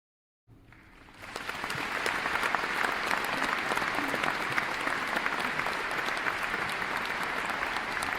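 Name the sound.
audience applause for the cast of a theatre play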